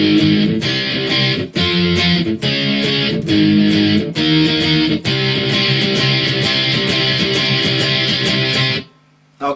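Distorted electric guitar chugs through the verse of a song, dense strummed power chords in a steady driving rhythm with short choked breaks, loud and up front, stopping abruptly near the end.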